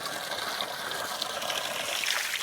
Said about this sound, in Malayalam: ആ മലയുടെ മേളിൽ നിന്ന് ഒഴുകി വരുന്ന വെള്ളമാണേ